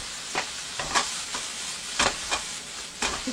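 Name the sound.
stir-frying chives in a frying pan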